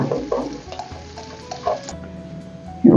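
Garlic fries for farofa in a pan, a soft sizzle broken by scraping stirs and a few light clinks, close by and with no talking.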